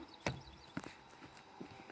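A saddled horse's hooves clip-clop in a few sparse, uneven steps, each hoof strike distinct and fairly close, with quiet gaps between.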